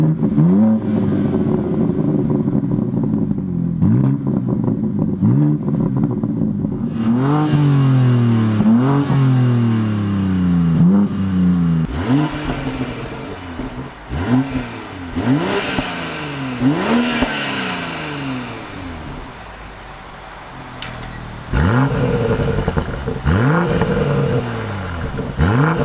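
BMW M3 Competition engine revving hard, with repeated rising and falling sweeps through the gears and throttle blips, a loud, close engine roar with crackles, carrying on for about twenty-five seconds with no talk.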